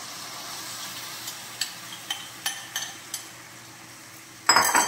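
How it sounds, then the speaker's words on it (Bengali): Masala gravy poured into a pan of ginger, garlic and onion already frying down: a soft steady sizzle with a handful of light spoon scrapes and taps, then a louder clattering burst at the end. "এবার এই মশলার গ্রেভিটা দিয়ে দেব"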